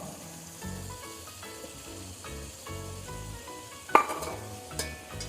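Green peas, meal maker and vegetables sizzle softly in a pan for veg biryani, with faint stirring scrapes and a couple of sharp utensil clinks against the cookware.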